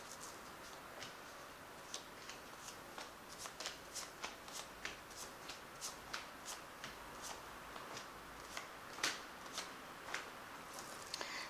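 Tarot cards are handled quietly, with a run of soft flicks and snaps in an uneven rhythm as the deck is cut and cards are drawn.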